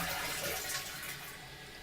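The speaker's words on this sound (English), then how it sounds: "You'll see that the flush fills very quickly because it only uses 3 liters for each flush." A low-flow toilet using 3 liters per flush refills after flushing, with water rushing and hissing steadily close by, slightly louder at first then settling to a fainter trickle.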